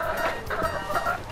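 Chickens cluck steadily inside a mobile coop being moved onto a fallow field on an organic farm, with overlapping hen calls close by and a clear, continuous flock murmur.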